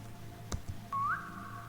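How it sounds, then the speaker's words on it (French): In Roblox, a short rising whistle, clear and fairly loud, follows a couple of soft thumps, with a steady low hum underneath. "Là, je viens de siffler"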